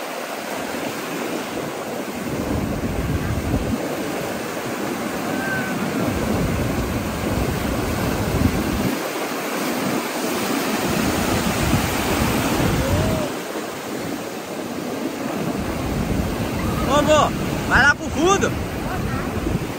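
Ocean waves surge and break on a beach in repeated washes, loud and close with wind buffeting the microphone, and voices briefly chatter near the end.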